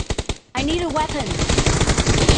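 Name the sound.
M1014 shotgun gunfire in PUBG Mobile video game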